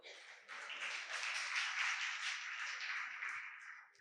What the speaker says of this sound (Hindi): अब ताली नहीं बजाओगे?